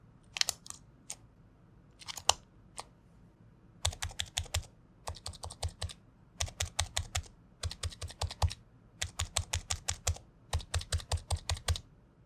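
Close, crisp typing on a Niz L84 electro-capacitive keyboard with plate-mounted stabilizers comes in quick bursts of clacking keystrokes separated by short pauses, with no talking.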